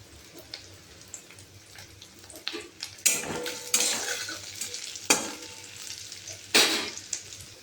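Sliced onion frying in oil in a pan for a duck egg and potato curry, a steady soft sizzle broken by several louder bursts of stirring and spoon scrapes against the pan.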